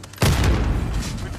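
A grenade explosion in a shooter video game bursts out as one loud, sudden boom with a rumbling tail that fades over about a second.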